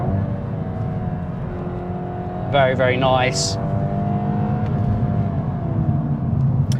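A VW Golf GTI Clubsport 45 edition drives with a steady engine drone heard from inside the car, then swells briefly into a rising acceleration surge. A voice speaks over the engine.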